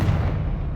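Confringo explosive spell blast in Hogwarts Legacy, a short, loud, rumbling boom with heavy low-end weight that holds steady for under a second, with no voices.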